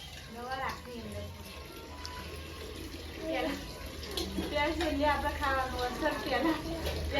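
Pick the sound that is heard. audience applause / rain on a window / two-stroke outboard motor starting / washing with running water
washing with running water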